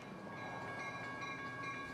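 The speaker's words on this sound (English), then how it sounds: "Geneva is the end of the line for the West Line commuter service, which sees nearly 60 commuter trains a day." A Chicago Metra commuter train on the West Line runs past at moderate distance, a steady rumbling roll with faint high tonal whines and no voices.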